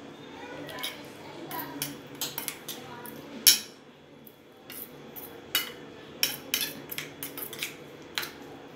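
Spoon stirring an almond oil hair remedy in a bowl, a steady run of light, close clinks and taps at an uneven rhythm, with one sharper knock partway through.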